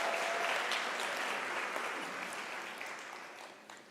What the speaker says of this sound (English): Can we give an applause to our management?